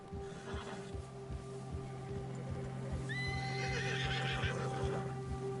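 A horse in Red Dead Redemption 2 neighs in a rising, wavering whinny over steady clip-clop hoofbeats and a constant background hum, fairly faint.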